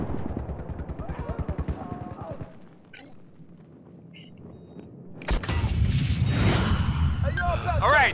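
Battlefield 4 multiplayer gunfire: a rapid burst of automatic shots opens, then a quiet lull, followed by loud blasts and dense firing with a player's voice mixed in.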